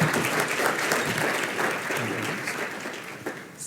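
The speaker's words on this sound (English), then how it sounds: "Please, let's applaud." Conference audience at a cystic fibrosis research session applauding a speaker, a steady dense wash of many hands clapping, fairly loud and close, slowly thinning toward the end.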